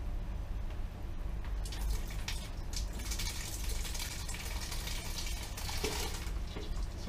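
Fermented Sangiovese red wine runs from a basket press in a continuous, close gushing trickle that stays steady throughout.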